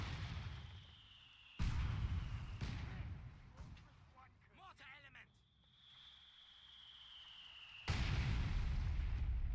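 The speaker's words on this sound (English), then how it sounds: "You have counter mortar fire from the stolen German mortar going down on this mortar here" Mortar fire in a Company of Heroes Battle for Caen match, with a captured German mortar firing on an opposing mortar: loud, deep booming impacts recur at irregular intervals amid quieter battlefield noise, with a voice talking between them.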